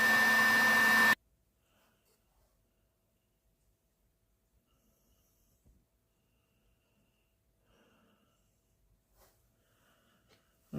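Hair dryer blowing loud and steady for about a second at the start, drying a surface layer in floral decoration work, then cut off to near silence with faint handling sounds.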